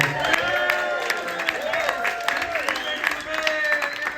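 Steady applause from a crowd with some cheering mixed in, filling the room at a moderate level throughout.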